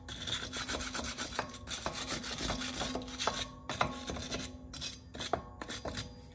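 Repeated scrubbing and rasping strokes on the brake hub surface of a 2018-2021 Subaru WRX during a rotor and pad swap, close and steady with short pauses between passes and no talking.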